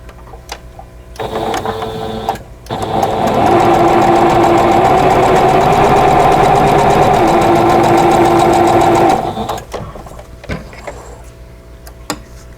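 Close and loud, a sewing machine stitches fabric pieces for a quilt block in two runs: a short burst, then a longer steady whirring, with small handling clicks before and after.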